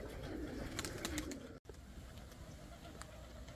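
Pigeons coo softly outdoors in a quiet, brief scene, with low murmuring calls set against faint background noise and a short dropout midway.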